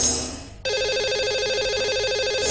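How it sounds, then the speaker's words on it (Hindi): A telephone rings out over the line as a radio show host calls the lucky caller, a steady repeating ring tone after a brief quiet start, loud and clear with no talk. "लगाते हैं इन्हें कॉल और करते हैं बात।"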